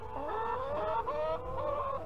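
A rooster clucks in a series of short, throaty calls, close and fairly clear, with no voices around.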